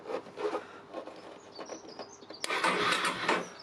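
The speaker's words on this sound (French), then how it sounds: "Le démarreur il fonctionne" A motorcycle starter motor, checked while tracing a starting-circuit fault, whirs up abruptly after some faint handling noises and keeps spinning with a steady, close grinding whine.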